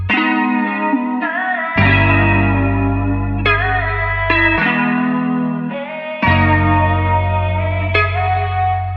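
Sustained layered R&B vocal-style tones from VST plugins drenched in heavy reverb and echo, smooth and washed out, shifting pitch every couple of seconds.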